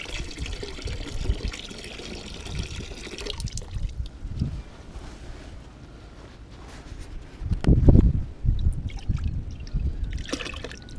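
Master 20-20-20 liquid fertilizer is poured into 10 liters of water, trickling and splashing softly, with a louder gush partway through.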